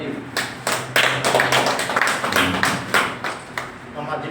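A meeting audience in Kunigal taluk claps to honour officials, a steady burst of many hands slapping in quick uneven rhythm, close and fairly loud, with talk over it.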